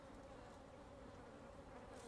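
Continuous humming drone of a crowd of honeybees, close and even, with a faint higher whir near the end and no talking.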